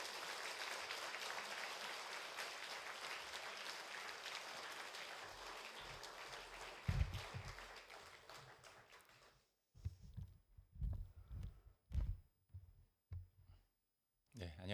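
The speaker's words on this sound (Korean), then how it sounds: "나오실 때 확 박수로 환영해 주시기 바랍니다" A church gathering at a Wednesday Bible conference claps to welcome a pastor to the stage, dense applause for several seconds that thins into scattered claps and taps with a speaker's voice coming through.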